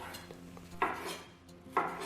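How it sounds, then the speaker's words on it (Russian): Knife cutting salmon fillet into small cubes on a board, two soft clicking chops with faint scraping between, quiet and close with no talking. "И сейчас рыбное филе нам нужно нарезать на небольшие кубики."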